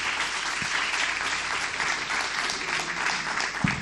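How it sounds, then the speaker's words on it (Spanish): Audience clapping at a cultural tourism panel, a steady, even burst of applause from a seated crowd lasting the whole stretch, moderately loud with no talk over it. "Vamos a darle el aplauso a él también"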